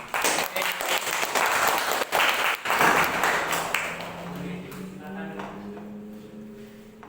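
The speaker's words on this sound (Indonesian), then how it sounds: "beri tepuk tangan karena kelompok 2 telah memberikan yang terbaik" Students applaud a presenting group at the end of a school project presentation. Loud, dense clapping lasts about four seconds, then fades into quieter room sound with a voice talking.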